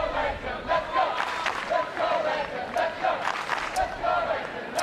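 Supportive crowd at a London tennis match, Hewitt against Nishikori, cheering and shouting in rolling bursts, a steady loud roar with rising swells throughout.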